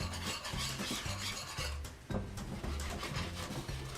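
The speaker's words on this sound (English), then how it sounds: "we'll take a whisk and just whisk this together" A whisk beating a mustard cream sauce in a pan alongside salmon and shrimp, a steady, rapid scraping swish that repeats in a regular rhythm and stays fairly faint and close throughout.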